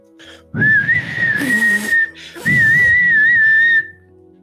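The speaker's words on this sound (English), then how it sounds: "Do you hear someone in the bar whistling?" A melodic whistle in a bar in an Undertale dating sim game, two wavering phrases separated by a short pause, each sitting over a soft low musical accompaniment.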